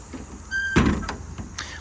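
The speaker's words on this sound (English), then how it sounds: "All the doors close, latch, lock, and seal as they should." Compartment door on the service body of a 2018 Kenworth T370 with a 14-foot Adkins bed slamming shut and latching, one solid thud followed by a couple of lighter clicks nearby.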